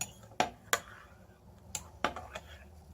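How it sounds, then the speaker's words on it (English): A spoon clinking against the inside of a mug of hot chocolate, several sharp light taps spaced irregularly over a quiet background, close and faint. "So I'm just going to give it a little stir."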